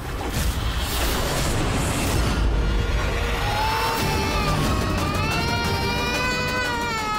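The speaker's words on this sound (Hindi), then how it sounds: "लल्ला के रोने की आवाज कहाँ से आ रही?" An infant cries in a dramatic night-time household scene, the wailing rising and falling continuously over dense background music and noise, with no talk.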